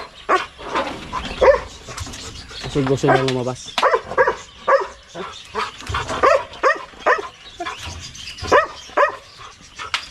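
Dogs bark and yip in short bursts amid a person speaking, with a whimpering, harmonic whine partway through.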